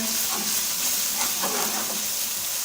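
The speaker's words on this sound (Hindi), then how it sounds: "ये भी डालेंगे और इसको मिक्स कर लेंगे और इसको थोड़ा फ्राई भी कर लेंगे ताकि इसका कच्चापन दूर हो जाए" Ground spices frying in a pan for sarson ka saag, a steady close sizzle and hiss with faint stirring scrapes throughout, no voices.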